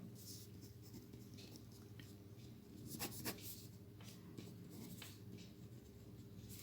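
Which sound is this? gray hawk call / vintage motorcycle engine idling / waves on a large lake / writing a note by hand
writing a note by hand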